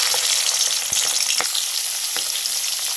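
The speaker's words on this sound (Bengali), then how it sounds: "চিংড়িগুলো হালকা করে ভেজে নেব" Shrimp fry in oil in a wok, giving a steady, bright sizzle with a few soft clinks and stirring knocks.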